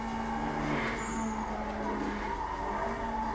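A car speeds along in Need for Speed Most Wanted, a constant engine drone and road roar with a few tonal engine notes that hold steady at a loud level throughout.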